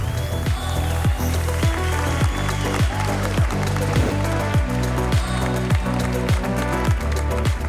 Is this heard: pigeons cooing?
no